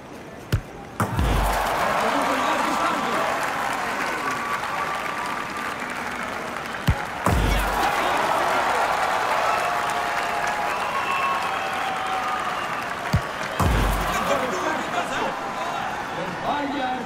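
Crowd applause in the FC 24 Volta football game, Portugal vs Argentina, keeps up as a steady clapping bed broken by a few sharp thuds, while a commentator talks over it.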